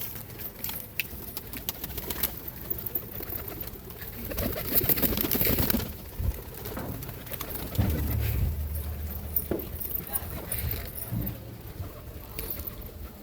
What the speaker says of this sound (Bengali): আর কিছু পায়রা আকাশে উড়ছে